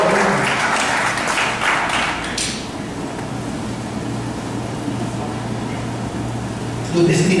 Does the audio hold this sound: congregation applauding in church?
yes